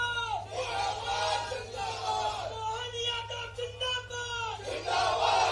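A crowd at a political rally in Balpur, Dindori, marking Rani Avantibai Lodhi's sacrifice day, shouts and chants together in loud surging waves of massed voices that rise and fall with no clear break.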